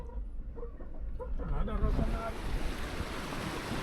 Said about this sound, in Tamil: குமட்டி நதி இங்கே பாருங்க நடு இதில் பாயுது